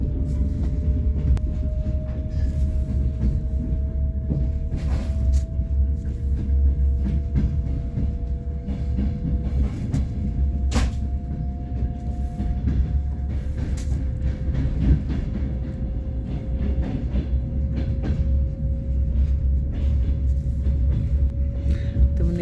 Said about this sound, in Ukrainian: А це новенький потяг.